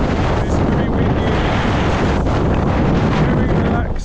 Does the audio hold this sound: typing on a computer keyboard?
no